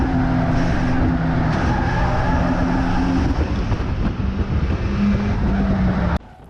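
Race cars overtaking on a track, with the 65 car squeezing down the inside: a loud, steady engine drone with rising and falling pitch fills most of the moment, then cuts sharply to a quieter background near the end.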